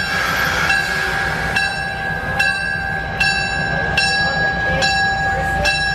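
A historic train rolls through Greenfield Village with steady wheel and track noise, a sustained tonal whine, and regular clacking at the rail joints. It sounds close and continuous, with no talk over it.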